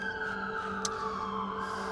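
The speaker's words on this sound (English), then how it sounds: "Excuse the sirens." Steady tonal sirens wail in the distance over a constant background hum, with a brief sharp click partway through.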